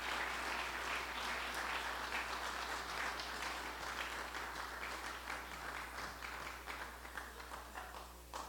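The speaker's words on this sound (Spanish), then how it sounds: "Dale un fuerte aplauso al Señor" Congregation applauding in a church, a dense, steady wash of many hands clapping that carries on throughout at moderate level, with a low steady hum underneath.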